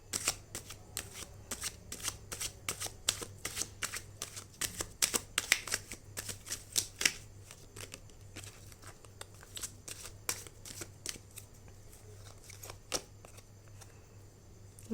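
A deck of tarot cards is shuffled continuously by hand, giving a dense, quick run of crisp riffling flicks and soft slaps that stays close and steady for the whole stretch, with no talking.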